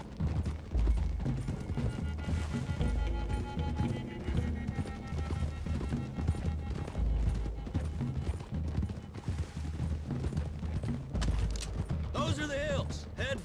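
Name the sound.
horses galloping in Red Dead Redemption 2 video game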